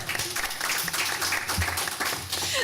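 Audience applause in a meeting room for an award winner at a college board of governors meeting, steady clapping throughout at moderate loudness with no speech.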